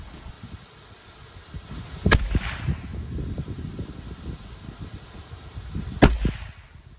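Two sharp gunshots from a Ruger firing CCI Velocitor rounds into ballistic gel crack outdoors about four seconds apart, over faint wind and rustling.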